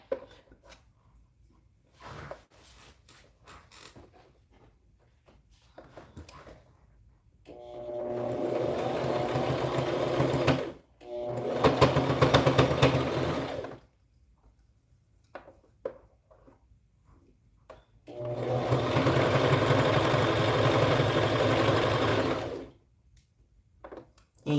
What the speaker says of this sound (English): under the presser foot here, about a 3/8 inch seam allowance, and we're going to start to sew